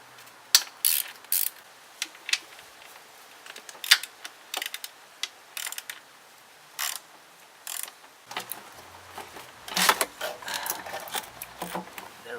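Ratchet wrench turning a deep socket on intake manifold bolts of a BMW N52 engine, with a series of short, sharp mechanical clicking bursts in irregular groups, close and fairly quiet, thickening toward the end.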